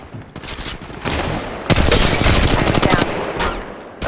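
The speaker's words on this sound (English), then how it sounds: "Opening fire. Getting shot at." Apex Legends Mobile gunfire crackles in rapid automatic bursts with a loud, dense volley in the middle and brief gaps between shots.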